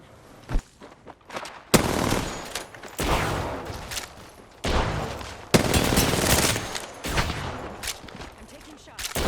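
Rapid gunfire fills a first-person shooter match: dense bursts of automatic shots and sharp cracks come in long, loud volleys with brief pauses between them.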